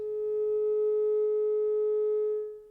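A steady pure sine tone plays into a flame tube at a physics demo show, holding one clear pitch with faint overtones for nearly three seconds before fading, with no talking.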